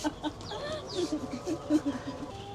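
Free-range Bengali desi chickens clucking nearby, a series of short, soft clucks repeating in an uneven rhythm, with faint background noise and no talk.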